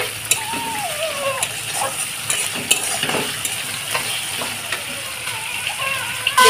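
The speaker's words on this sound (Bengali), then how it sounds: "তারপরে আমি 1 চামচ আদা রসুনের পেস্ট দিলাম, দিয়ে আমি মশলাটাকে ভালোভাবে কষিয়ে নেব।" Ginger garlic paste and spices fry in a pan, a continuous sizzle broken by frequent scraping and stirring strokes of a spatula, fairly close and steady throughout.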